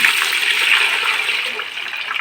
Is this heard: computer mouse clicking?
no